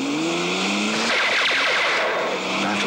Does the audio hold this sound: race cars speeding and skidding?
yes